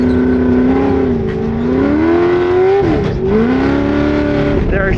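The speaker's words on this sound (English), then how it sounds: "There, I shifted without the clutch because it was a little easier there." Car with a Mendeola / Weddle S4S dogbox transmission under load, a loud engine note rising, dipping sharply during a clutchless gear change, then climbing again, close up inside the car.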